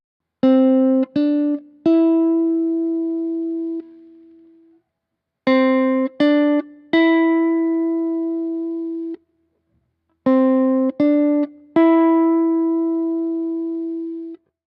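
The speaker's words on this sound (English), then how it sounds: "When I play the strings with my fingers, then I create completely different sounds when I'm using the thumb, the index finger or the middle finger." Fingers pluck guitar strings through a Kemper amp profile. Three matching phrases are played, each with two quick plucks and then a longer note that fades slowly. The guitar is clean, close and unaccompanied, with short silences between phrases.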